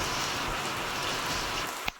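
Rain falls steadily on a farm, a close, even patter of drops that ends with a short sharp knock and a quieter tail.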